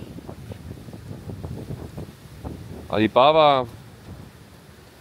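Strong wind on a Mallorca beach buffets the microphone in low, uneven rumbling gusts, with a brief spoken voice cutting in partway through.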